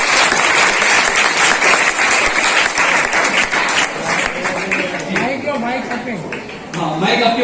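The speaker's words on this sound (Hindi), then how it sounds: "जोरदार तालियां इनको लिए" Students applaud at a school general knowledge quiz competition, with dense, loud clapping from a crowd that thins toward the end as voices and a microphone speaker rise underneath.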